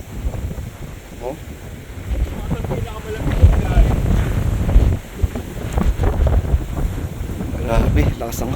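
Strong wind buffets the microphone in a continuous low roar while riding a maxi scooter in Bataan, with faint voices and a hint of engine or water noise underneath.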